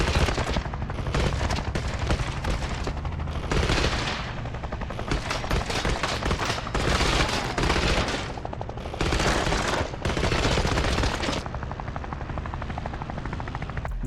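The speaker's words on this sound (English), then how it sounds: "And the cannon sound and the bullet impact sounds are new as well." A helicopter's rapid cannon fire and bullet impacts in a video game, dense bursts of loud automatic shots over a steady rotor drone, pausing briefly between volleys and resuming throughout.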